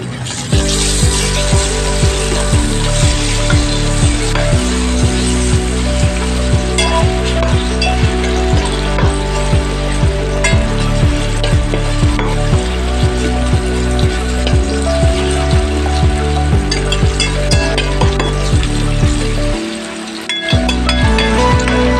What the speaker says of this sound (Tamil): நல்லா கொஞ்சம் பொன்முருவலாக கொஞ்சம் வதக்கிக்கிடலாம் வெங்காயத்தை